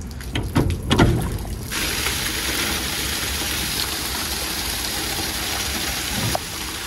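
Water runs from the grain chute of a full trailer's tailgate in a steady, continuous rush after a few brief knocks and clatters at the start. The sound stays fairly close and even, with no talking.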